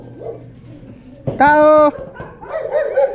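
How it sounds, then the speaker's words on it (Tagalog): Several dogs bark at a house visited during a house blessing in the Philippines, one loud sustained yelp or howl standing out briefly, while people call out nearby before and after it. "Dami aso."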